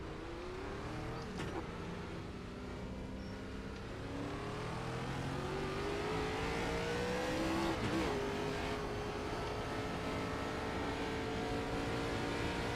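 A NASCAR Gen 4 race car on a hot lap at Atlanta in a video game, its engine droning steadily and climbing in pitch through the gears, loud and continuous with brief shift dips and no talk.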